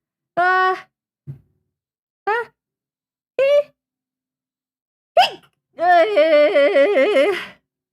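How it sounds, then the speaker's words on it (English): A person sneezing indoors during a drawing session, with short separate voiced bursts, one sharp sneeze and then a longer wavering vocal sound, close and fairly loud against silence. "I'm gonna sneeze."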